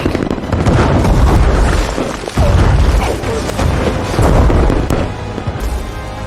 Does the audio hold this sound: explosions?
yes